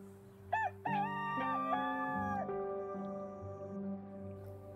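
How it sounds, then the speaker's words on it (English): A rooster crows in a long, drawn-out cock-a-doodle-doo, clear and close, with a loud start, a sustained, wavering middle and a fading tail; no talking. "rooster."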